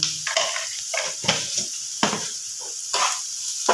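A spatula stirs a frying egg snack in a pan, making repeated scraping strokes over a steady close sizzle, with no talking.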